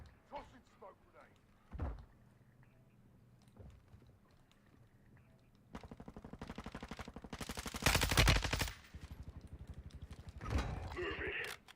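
Rapid automatic gunfire from a tactical shooter game bursts out in dense, rattling volleys that build to a loud peak, with scattered single shots earlier and in-game radio voices talking over the quieter stretches.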